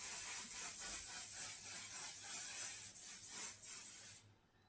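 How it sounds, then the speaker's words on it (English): One Size Until Dawn Mattifying Waterproof Satin Spray, a makeup setting mist, gives a steady, close hissing spray for about four seconds, with a few brief dips, then cuts off into quiet. "The One Size Until Dawn Mattifying Waterproof Satin Spray."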